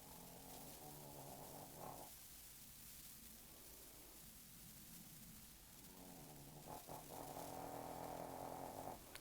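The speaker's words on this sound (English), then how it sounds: "Listen to my dog snoring." A pet dog named Stewie snores faintly and steadily nearby, with soft rumbling breaths rising and fading in a slow rhythm over a low background hiss.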